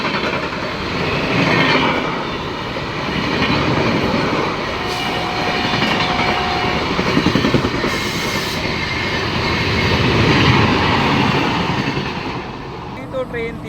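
A superfast train races through Vidisha railway station at high speed, a loud sustained roar of wheels and rushing carriages with rhythmic clatter that swells and fades, heard from aboard another train.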